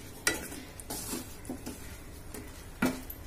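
Boondi being stirred in sugar syrup in a pan over low gas: soft scraping and stirring strokes with a few sharper clinks of the spoon against the pan, close and fairly quiet, with no talking.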